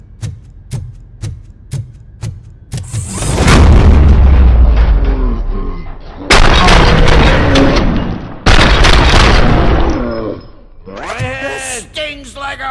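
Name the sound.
gunshots from video game RoboCop: Rogue City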